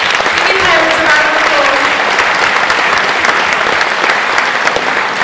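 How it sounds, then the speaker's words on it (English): Primary school pupils and audience give a loud, sustained round of applause, dense and close clapping that carries on evenly for several seconds, with a voice briefly audible beneath it. "give yourselves a massive round of applause for that"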